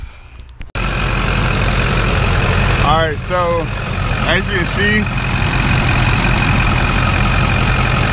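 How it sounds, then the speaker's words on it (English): A Duramax diesel truck engine, just after its injectors were cleaned, cranks and fires up with a sudden roar, then settles into a steady, loud diesel idle as someone talks over it. "Now we are good to start up the truck."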